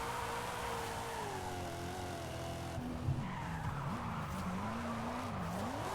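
A Buick Regal GNX drifting in Forza Horizon 5, running a drift tune, with long wavering tire squeals over a steady engine drone. Slides bend in pitch as the car shifts angle, loud and close, with no talking.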